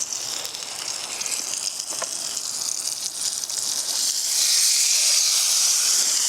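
Salmon fillet, skin side crisped, sizzling in a pan over a camp stove on a beach after being flipped: a continuous close hiss that swells louder toward the end, alone, with no voices.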